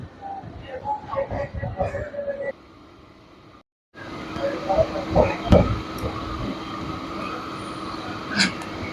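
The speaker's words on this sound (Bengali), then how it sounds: "সাঁতরাগাছিতে এক মিনিট দাঁড়াবার পর আমাদের ট্রেন ছেড়ে দিয়েছে" A Howrah–Medinipur local train pulls away from Santragachi, heard from inside as a rumbling, clattering run with rhythmic wheel knocks and hiss. Chatter fills the carriage, and a brief dropout is followed by louder running noise.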